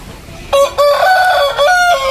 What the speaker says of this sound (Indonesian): Ayamnya besar-besar, ini ayam Bangkok. Ada juga ayam kampung.